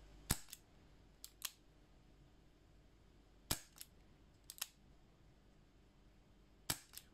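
A gas-powered gun fires sharp, snappy shots in quick pairs and singles, about seven in all, each a crisp crack against a quiet background.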